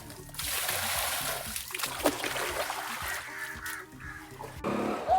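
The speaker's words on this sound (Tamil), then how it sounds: "கருவாடு கழுவி கொண்டிருக்கிறோம்" Water splashing as dried fish are washed at an open-air fish market in Chulipuram, Jaffna, with repeated sloshing and trickling under nearby voices and market background noise.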